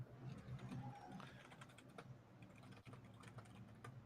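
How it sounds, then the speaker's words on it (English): Fingers typing on a computer keyboard, a steady run of soft, quick key clicks heard close up with a low room hum behind it and no talk. "I have to type something"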